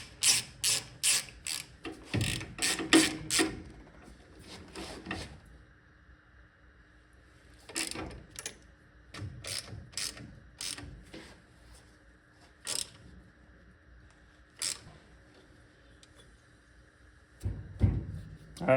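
A ratchet tightening bolts on a 1.8T engine in a rear-wheel-drive build, with bursts of quick clicking strokes separated by pauses and quiet stretches, close by.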